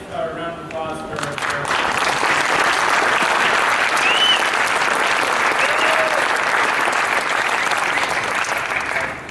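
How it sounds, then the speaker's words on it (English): Applause from an audience at a gymnastics team ring presentation, a dense steady roar of many hands clapping that swells quickly after a brief voice and holds loud throughout. "let's have a round of applause for"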